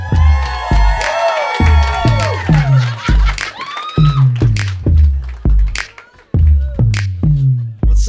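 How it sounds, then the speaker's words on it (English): A live crowd at a radio station's holiday show cheers and whoops for the morning host, loud shouts and yells rising and falling in repeated bursts close by, with a rhythmic pulse running underneath. "Everybody, huge round of applause for Jubal Flagg"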